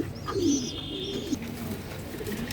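Bombay pigeons at a pigeon farm give soft, throaty coos close by, a couple of rolling calls over a low background murmur, with no voices.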